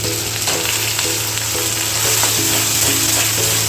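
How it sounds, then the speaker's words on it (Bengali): Ginger and green chili paste sizzles and fries steadily in a pan with fried paneer, a continuous close hiss with brief stirring scrapes, no voices. "এই মুহূর্তে আমরা দিয়ে দিচ্ছি আদা এবং কাঁচা লঙ্কা বাটা"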